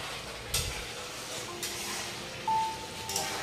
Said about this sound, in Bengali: মশলা কষাচ্ছে মামুনি একটু নাড়িয়ে নিচ্ছে